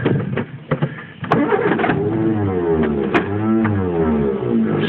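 A 1956 Ford Prefect 100E's engine cranks on the starter with a few uneven turns, then catches and settles into a steady, close, loud running note.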